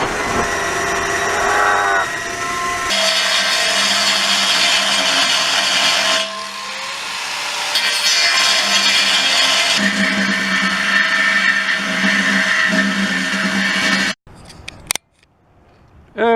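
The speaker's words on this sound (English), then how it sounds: "I used the angle grinder head, the thing that's for grinding, not necessarily cutting, ground big giant notches into" An angle grinder grinds large notches into metal for a sword forge build, a loud steady whine running in long stretches with brief pauses before cutting off.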